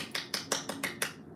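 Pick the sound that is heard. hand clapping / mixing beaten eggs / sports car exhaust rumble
hand clapping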